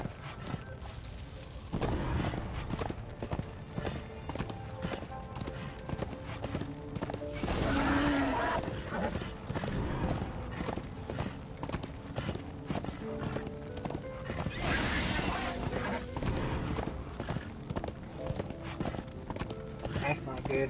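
Hooves drum steadily as a horse is ridden in Darksiders II, with galloping clip-clop and an occasional whinny over game music and ambience, and a person talks throughout.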